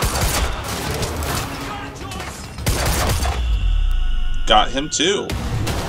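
Rapid bursts of gunfire in Quantum Break, with a loud volley at the start and another midway, then mechanical hum, and someone speaking briefly near the end.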